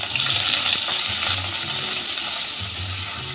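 Paneer cubes fry in hot oil in a wok, giving a steady, close hiss and crackle with faint stirring scrapes throughout.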